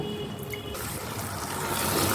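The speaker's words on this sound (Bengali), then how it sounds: "পোস্তর পাত্রটা ধুয়ে আমি একটু পানি দিয়ে নেব।" Water from a rinsed poppy-seed bowl is poured into a cooking pot for a Bengali fish curry, a close, steady trickle and splash that swells slightly toward the end.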